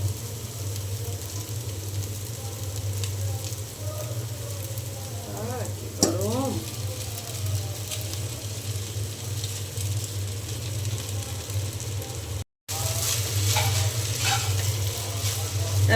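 Noodles frying with egg in a pan give a constant close sizzling hiss over a low hum, with brief stirring scrapes partway through and a short dropout near the end.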